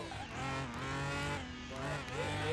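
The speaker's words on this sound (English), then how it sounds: "And we're off and running in the Lambo. It is spinning, the tires a little." A Lamborghini in the Car Mechanic Simulator 21 video game launches from a race start with its tires spinning, a loud, close engine roar with rising harmonic pitch and squealing rubber.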